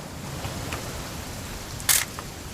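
An old camera shutter fires once with a sharp, bright click over a steady hiss of rain, with a couple of faint taps before it.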